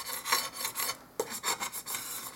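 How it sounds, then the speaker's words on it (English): A cheap hardware-store paint scraper rasps across a ceramic tray in quick, uneven strokes with a brief pause partway through, close and fairly quiet with no talking. "This is just a cheap paint scraper from the hardware store."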